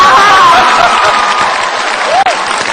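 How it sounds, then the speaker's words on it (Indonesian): A loud, dense wash of crowd applause in an Indonesian legislative council session, honoring a politician, with a faint tonal whistle or murmur riding over the steady clapping near the end. "tepuk tangan dulu dong untuk Pak Ahok"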